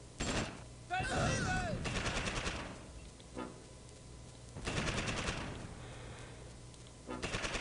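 Gunfire erupts in a Close Combat Normandy battle, repeated machine-gun bursts and single shots in clusters, loud and close against a dull background rumble.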